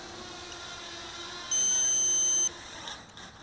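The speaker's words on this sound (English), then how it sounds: "there comes the timer, just as I was talking about not wanting to stop" The flight timer on a Blade 200 QX quadcopter's transmitter gives one steady, high-pitched electronic beep lasting about a second. It sounds clearly over a low background hum outdoors.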